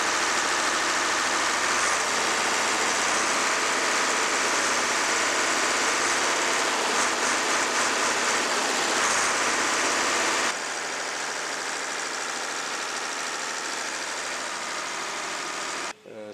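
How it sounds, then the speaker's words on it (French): An air-cooled engine on a combine harvester runs loud and close with a dense, rattling roar, then settles to a steadier, quieter idle for the remaining seconds before a brief drop at the end. "Sur une moissonneuse batteuse, un moteur à refroidissement par air, c'est un peu risqué."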